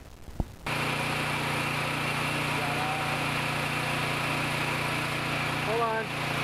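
A CC300M petrol-engine masonry saw for concrete cutting starts abruptly and holds a steady, moderately loud idling drone, with a faint voice near the end.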